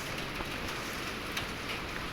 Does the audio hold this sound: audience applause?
no